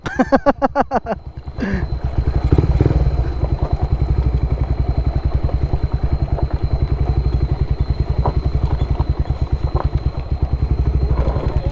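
A motorcycle engine revs up and then runs steadily with a loud, rapid chugging throb, close to the microphone, with some clatter.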